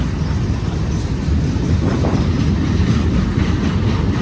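A long BNSF intermodal freight train rolls steadily past close by, a loud continuous rumble of wagons and wheels with faint clickety-clack, heard alone without talk.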